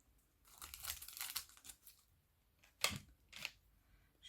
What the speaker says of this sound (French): je vais pouvoir enlever mes petits scotch